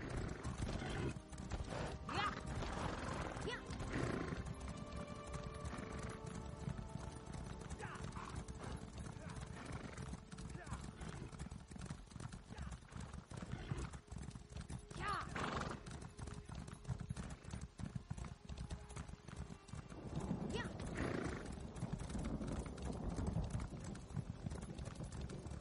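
Galloping horses in an online PvP game, with rapid continuous clip-clop hoofbeats under a steady rumble and occasional whinnies, while players talk over the top.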